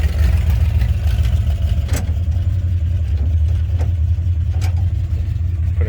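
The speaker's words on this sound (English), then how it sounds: "It's definitely making some engine noises." A car engine that has blown up runs steadily with a deep, rough low rumble, loud and close, with a few faint knocks and clicks rising over the drone.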